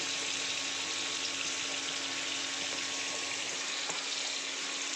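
Cumin, ginger and green chilli paste fries in a pan with a steady, even sizzle that holds at moderate level throughout, with no talking.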